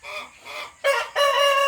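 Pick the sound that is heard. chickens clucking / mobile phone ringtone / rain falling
chickens clucking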